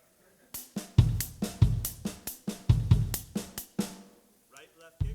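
Drum kit playing a sixteen-note pattern alternating kick drum with right and left hand strokes, a steady run of sharp hits for about three seconds, close and loud, ending with a few softer taps; no talking.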